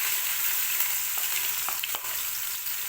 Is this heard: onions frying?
yes